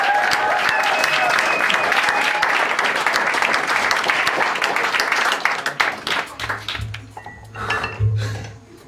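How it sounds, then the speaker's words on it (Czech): Audience applause at a live Czech comedy and mentalism show, a full room clapping loudly and steadily to welcome a performer, then thinning out into scattered claps as a low hum comes in near the end. "Přivítejte prosím potleskem"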